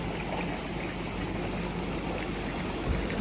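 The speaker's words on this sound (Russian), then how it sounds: "Такой бурный поток." A turbulent river rushes along a roadside on a mountain route, a loud steady roar of churning water filling the whole clip with no voices.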